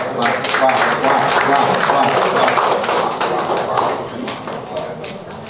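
Journalists clapping at a press briefing on the Central Papua drought response, a close, dense burst of hand claps that tapers off toward the end.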